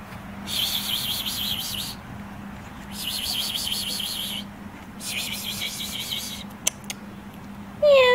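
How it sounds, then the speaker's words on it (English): A cat meows three times in a row, each call drawn out and wavering, close and fairly loud, followed by a short higher cry at the end. "Call the cat. Meow."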